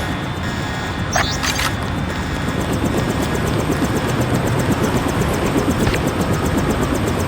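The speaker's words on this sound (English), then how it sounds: "Take the helicopter back to base." A helicopter in the 2000 video game Deus Ex: Game of the Year Edition drones loudly and continuously with steady rotor roar, near and constant throughout, with faint mechanical clicks above it.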